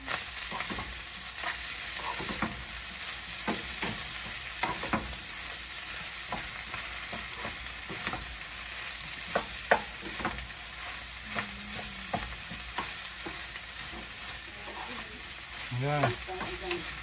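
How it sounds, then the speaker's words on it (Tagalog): Food sizzling as it fries in a pan, under a steady hiss, with a utensil stirring and scraping through it in irregular strokes, close by, with no talking. "Halo na rin natin to para halo-halo na sila."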